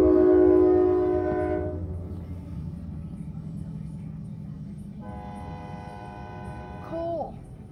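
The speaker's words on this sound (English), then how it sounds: "here comes the train" A loud horn blasts at the start, then a low-rumbling CSX freight train led by two ES44AC locomotives rolls past steadily, with a second horn sounding around the middle and a brief squeal near the end.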